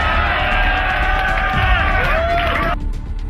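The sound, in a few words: rap battle crowd reacting and cheering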